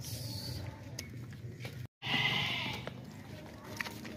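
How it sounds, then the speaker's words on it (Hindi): A Beetal goat and its kid are heard at a livestock market, with a couple of loud nasal bleats and some shuffling against a noisy outdoor background. "ये बकरी है और ये बच्चा है"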